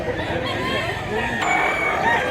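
A rooster crows at a Mantalungon, Cebu market among fighting cocks offered for sale, its harmonic call rising over steady crowd chatter and clucking fowl across a short stretch.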